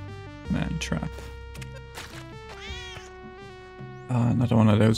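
A cat meows in the Spelunky 2 video game, a few short cries over steady layered game music, with a louder burst of sound near the end.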